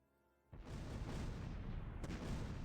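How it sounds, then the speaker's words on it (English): Mortar fire in the WWII strategy game Close Combat, starting as a sudden loud boom after a quiet moment and carrying on as a dense rumbling barrage, with a sharp crack near the end. "Let's hope the mortars will do the job here."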